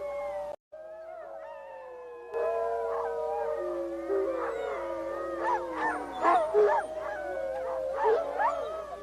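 Recorded howls of rival wolves, played through a loudspeaker toward a forest, rise as several overlapping, long, wavering calls with yips mixed in, growing louder and more layered as the chorus builds.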